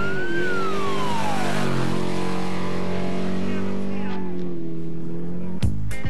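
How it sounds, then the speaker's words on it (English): A loud off-road race truck engine roars steadily during the 2009 Baja 1000, its pitch sliding and shifting as the truck races past, with a sharp burst near the end. "It's the roar of Robbie Gordon, who has repassed Cameron Steele."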